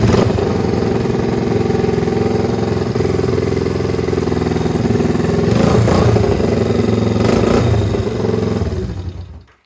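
Motorcycle engine being started and running, a loud close idle with a rough uneven rhythm and a slight rise partway through before cutting off at the end.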